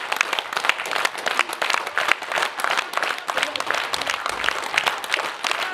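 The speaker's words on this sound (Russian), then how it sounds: "Знаете, пожалуйста, поаплодировать." A concert audience at an international conductors' competition in Kyzyl, 2018, applauds the orchestra musicians with brisk, uneven clapping that keeps a lively, pulsing texture throughout.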